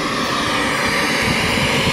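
Steady, loud broadband hiss of FM static from a JVC XS-N5212PB trolley speaker radio tuned off-station, continuous and unbroken at close range with no voices.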